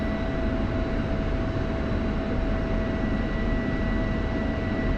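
An F-16 jet taxiing toward the runway in the DCS World flight simulator, a steady loud engine whine and roar with a constant high tone, unbroken and close throughout.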